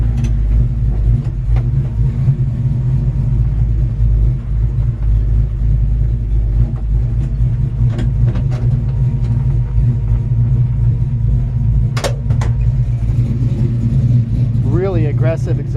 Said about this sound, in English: Aggressive exhaust.